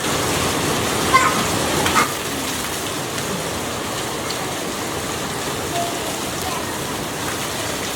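Rain falls behind a house as a steady, dense hiss that fills the space throughout, with a couple of brief knocks early on.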